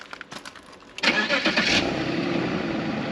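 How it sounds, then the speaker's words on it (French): A car engine with about 300,000 km on it cranks briefly and catches on the first try, then settles into a loud, steady idle that continues to the end. "Vas-y, démarre-la nous. Elle démarre au quart de tour, mec."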